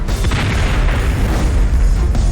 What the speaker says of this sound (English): The explosion is also recorded by a police officer several blocks away.